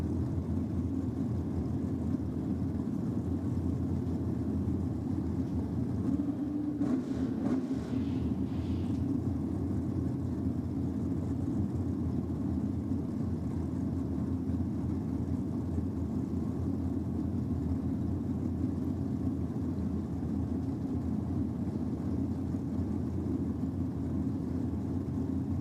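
A nitro funny car engine idles and builds toward higher revs at Sydney Dragway during a drag racing championship, a loud steady low rumble throughout with a brief burst partway through, no voices.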